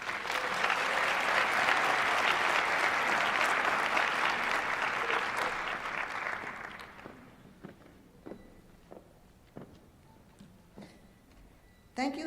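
A dense round of audience applause at a university multicultural graduation celebration rolls loudly for several seconds, then fades into scattered claps, light taps and footsteps in a quiet hall.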